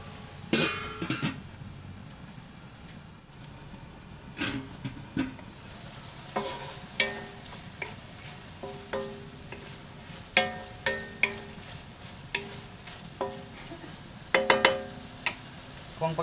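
Food frying in a pan while being stirred, with a steady sizzle underneath and a scatter of clinking utensil scrapes and taps against the pan, close and moderately loud, with no talking.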